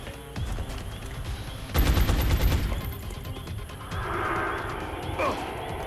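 Overwatch gunfire from the XCOM video game: a dense burst of rapid automatic shots cracks out near the two-second mark amid steady game ambience, with a softer burst trailing off later.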